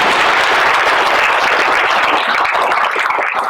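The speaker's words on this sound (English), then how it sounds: "So a big round of applause there." Loud, close applause from a school-event audience, a thick continuous roar of many clapping hands that holds strongly for several seconds and thins slightly near the end.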